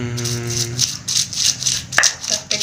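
Spices being ground smooth for pindang fish, a repeated rattling, scraping rhythm of a pestle working against a mortar, close and fairly loud, with a faint tonal hum fading early on.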